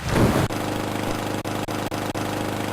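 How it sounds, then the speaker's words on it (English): Steady droning lawnmower engine noise in a video game, a constant mid-pitched hum that stays level throughout, broken by a few brief sharp cutouts. "I'm really glad there's no music, otherwise I wouldn't be able to hear this sweet lawnmower noise."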